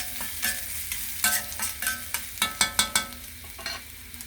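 Chopped onion frying in a pan for an afternoon noodle snack, with a steady sizzle broken by a run of sharp scraping stirs in the middle. The pan is close and fairly loud, and no one speaks.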